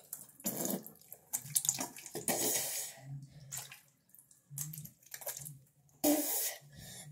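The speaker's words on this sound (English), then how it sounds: "washing my face with some water." Someone washing their face with water at a sink, with splashing and running-water bursts coming in irregular intervals, close and fairly quiet, without speech.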